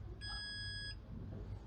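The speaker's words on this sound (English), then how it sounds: "The lock gives a long beep." A hotel door lock, set up from a handset, gives one long steady electronic beep that stands clearly over a low background hum and fades out after under a second.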